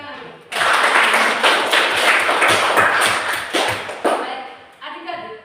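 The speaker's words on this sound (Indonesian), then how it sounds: "Oke, mari kita beri tepuk tangan." A class of students gives a round of applause in a classroom, a dense burst of clapping lasting several seconds before tapering off into scattered claps.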